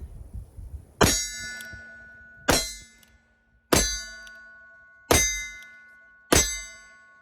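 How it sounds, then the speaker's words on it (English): Five revolver bullets from an Uberti 1851 Navy conversion and Ruger Vaquero strike AR500 steel targets at a steady pace, each a sharp metallic clang that hangs and fades before the next. "That steel ringing is pretty fun."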